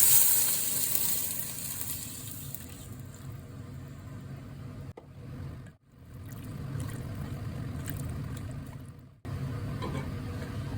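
Broth poured into a pan of sizzling onions and drained Jerusalem artichokes, a steady close frying hiss with liquid rushing in, briefly cut by two short pauses before the sizzle resumes.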